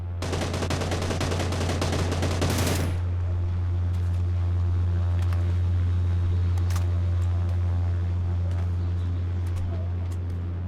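Gunfire in the mobile shooter PUBG New State, Extreme mode: a rapid burst of automatic shots for the first few seconds, then a steady low engine-like hum with faint scattered clicks and no talking.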